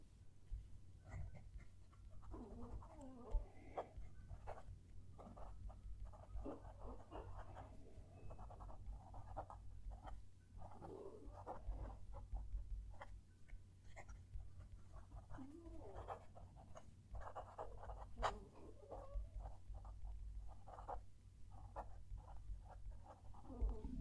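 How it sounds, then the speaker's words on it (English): A fountain pen nib writing a sentence on paper, recorded close up: faint, soft scratchy strokes in short irregular bursts over a steady low background hum. "Going to move the mic down to the page and write a sentence."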